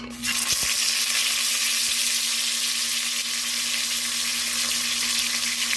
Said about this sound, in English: We're going to sear them.